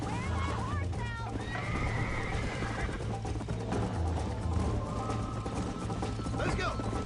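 A horse in Red Dead Redemption whinnies loudly several times over galloping hoofbeats and background music, with a voice speaking in between.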